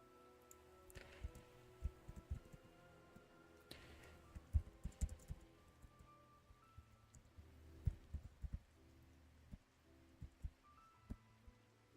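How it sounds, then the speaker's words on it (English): Typing on a computer keyboard is picked up by a desk microphone: quiet, irregular clicks and taps in bursts, fairly close but soft, with no talking. "keyboard sounds tend to come through my mic"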